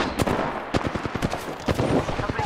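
Rapid bursts of automatic gunfire crack out in a video game firefight, sharp clustered shots in quick irregular volleys, fairly close and loud.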